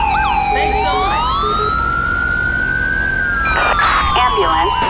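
An ambulance siren wails loud and close, a steady rising and falling tone filling the scene, with brief voices and other noise breaking through near the end.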